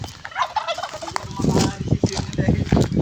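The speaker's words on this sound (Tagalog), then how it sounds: "Tapos yung pabo." A turkey on a farm in Taal, Batangas gobbles in a loud, rapid rattling burst, close by, with other fowl and faint background voices around it.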